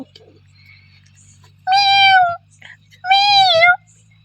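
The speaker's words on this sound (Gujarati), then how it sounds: "આ તો બિલાડો નીકળે છે" A cat gives two long, loud meows close by, each lasting under a second and separated by a short pause, with people talking softly in the background and a low steady hum running throughout.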